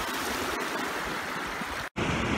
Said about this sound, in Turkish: tam dereye indik şu anda